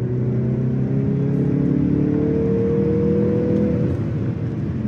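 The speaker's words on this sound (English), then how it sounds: "it also makes an incredible throttle sound." Turbocharged 2.5-litre Mazda CX-50 engine revving steadily, its pitch climbing and holding as the throttle is opened, loud and close.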